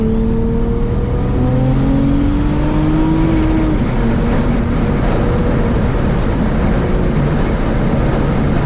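A big-turbo BMW N54 engine revs hard and accelerates, the pitch climbing steadily through the gears, loud and close with a constant roar and no talking.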